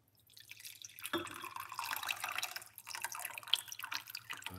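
Liquid pours steadily into a cup for a few seconds, a close, soft trickling splash that starts after a brief silence, with no talking.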